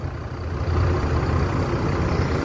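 A Palala bus with Laksana coachwork pulls in close by, its heavy diesel engine rumbling steadily at low speed with a loud, continuous drone and no talk.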